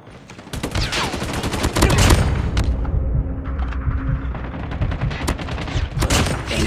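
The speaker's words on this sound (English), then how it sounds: "Sentry gun ready to deploy." Dense, continuous automatic gunfire from a deployed sentry gun in the mobile shooter Call of Duty Mobile, rapid loud bursts with booming impacts running through the whole stretch, barely pausing.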